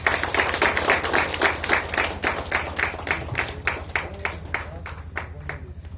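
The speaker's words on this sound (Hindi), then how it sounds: "एक जोर ताली।" Church congregation clapping loudly in a fast, even rhythm, many hands together close by, gradually thinning toward the end, with some voices underneath.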